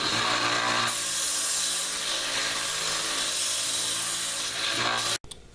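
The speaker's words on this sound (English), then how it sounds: "now I'm going to take it over to the belt sander" Belt sander smoothing a steel splitting wedge, a loud continuous abrasive whirring hiss up close, ending abruptly with a clunk near the end.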